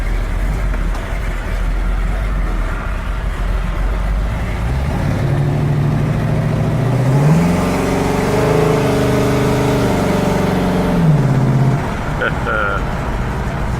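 A 1936 Ford 5-window coupe resto-rod out on a test drive, its engine heard from inside, first a steady drone, then revving up through a gear and climbing in pitch before settling back. Road and cabin noise run underneath.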